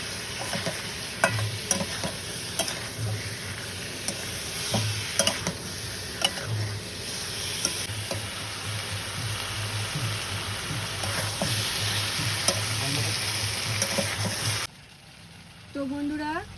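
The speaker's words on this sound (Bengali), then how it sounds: "কাশ্মীরি লঙ্কার গুঁড়োটা দিয়ে চিকেনটা ভালো করে ভেজে নেব, কোনো মতো জল দেবো না।" Chicken pieces frying with Kashmiri chili powder in a pan, a steady close sizzle with repeated stirring scrapes and clinks throughout, cutting off near the end to a quieter moment.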